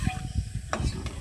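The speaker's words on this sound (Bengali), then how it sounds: "তখন দিয়ে দিলাম তেজপাতা" Bay leaves drop into hot oil in a wok while cooking chicken kosha, giving a soft sizzle with brief stirring and scraping clatter over a steady background hum.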